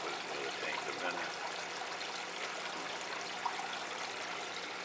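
Water rushes steadily from a homemade 350-gallon-per-hour aquarium filter, a loud continuous gushing and trickling stream close by, with no voices.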